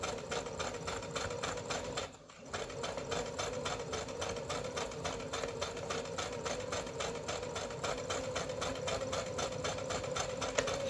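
Domestic sewing machine set to its longest stitch length, sewing around the edge of a fabric pincushion: a fast, even mechanical clatter heard up close, briefly stopping once and then running on steadily with no talking.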